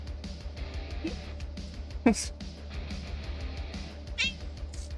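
A black cat meows several times indoors, the short mewing calls fairly close and clear over a low background hum, with one louder, sharper cry standing out among softer ones.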